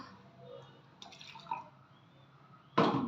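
Hot boiled water is poured into a jar of curd mixed with turmeric powder, a short splashing gush after faint drips and clinks, close and fairly loud at the end.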